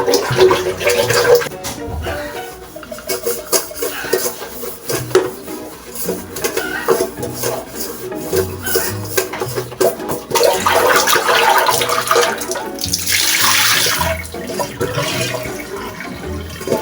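Tap water runs steadily into a rice cooker pot as it is washed, with splashing and occasional clinks of the metal pot, loud and close throughout.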